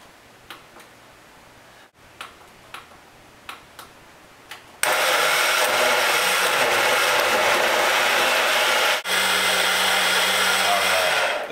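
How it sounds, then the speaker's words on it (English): A Living Well Health Master Blender blends frozen strawberry and banana into a smoothie, a loud steady motor roar with a brief dip partway through, preceded by a few light ticking clicks. "Again, using the Living Well Health Master Blender."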